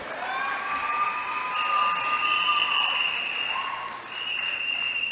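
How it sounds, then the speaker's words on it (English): Crowd at an outdoor political rally applauding and cheering, a steady wash of clapping with whoops and shouts, moderately distant and sustained throughout. "Give her a round of applause."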